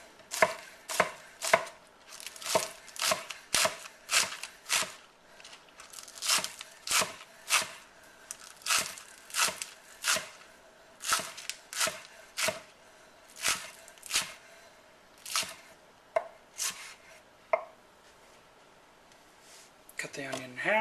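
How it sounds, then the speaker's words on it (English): A knife chops green onions on a cutting board in steady, rapid strokes, each one a crisp close knock, continuing in regular bursts with brief pauses throughout. "I'm going to go ahead and chop up the green onion"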